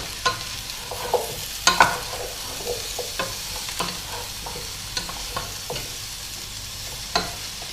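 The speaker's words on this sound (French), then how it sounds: "On va mélanger délicatement et je vais rajouter aussi les champignons que j'ai coupés en lamelles" Squash and sliced mushrooms with cumin are stirred gently in a sizzling pan. Distinct spoon scrapes and knocks land irregularly over a constant soft frying hiss, loud and near.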